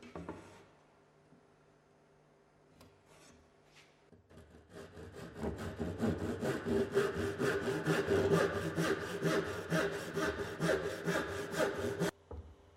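A hand saw cuts waste wood from a staircase string clamped in a vise, its steady back-and-forth strokes building to a fast, regular rasping rhythm for several seconds before stopping abruptly, close and moderately loud.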